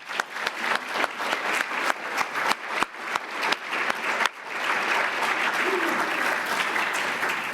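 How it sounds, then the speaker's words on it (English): An audience at a book industry conference claps, first in scattered individual claps and then swelling into dense, sustained applause that fills the hall. "Applause again."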